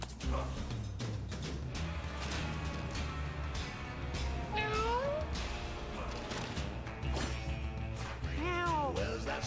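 Cat meows from the video game Mewgenics, a few rising and falling cries sounding over steady game music, with a cluster near the middle and another toward the end.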